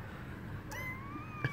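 A kitten gives a single faint, thin meow, drawn out and slightly rising, against a soft background hum.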